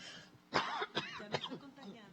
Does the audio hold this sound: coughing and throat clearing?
yes